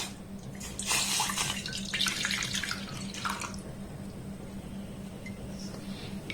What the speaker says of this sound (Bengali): এর মধ্যে দিয়ে দেবো এই কাপের মাপ করে এক কাপ লিকুইড দুধ